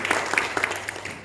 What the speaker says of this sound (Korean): 네, 뜨거운 우리 격려 한번 박수하겠습니다.